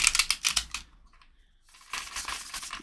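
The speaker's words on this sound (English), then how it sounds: "let's shuffle these a couple more times" A deck of flexible Fox and Crow tarot cards is shuffled in two quick bursts of crisp riffling and flapping, close by and fairly loud, separated by a short near-silent pause.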